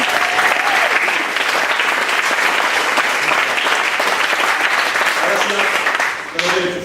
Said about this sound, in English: can we just take a minute to give a round of applause to all the staff